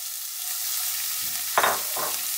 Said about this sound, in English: There we go, we wanna caramelize them.